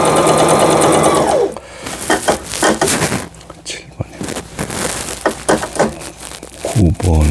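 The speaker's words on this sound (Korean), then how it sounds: "뒤로 가고 3번의 지그잭 바느질이죠" A Brother 2700 sewing machine runs a zigzag stitch set wide, its fast rhythmic whir loud at the start and again near the end, with someone speaking over quieter handling sounds in between.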